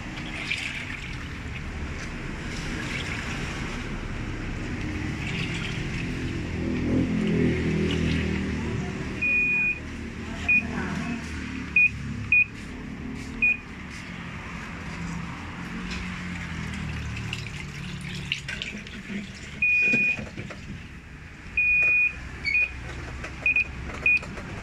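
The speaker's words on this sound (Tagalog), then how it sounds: "Panasonic automatic washing machine. So yung problema niya, may maingay kapag nag-wash" A Panasonic automatic washing machine churns and rumbles noisily from underneath with sloshing water, and short electronic beeps sound now and then.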